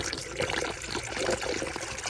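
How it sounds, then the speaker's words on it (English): Water pours steadily into the radiator of a 1991 Nissan Hardbody mini truck during a cooling system refill, a close, continuous trickling splash with no talk. "We'll fill that up with water and ice."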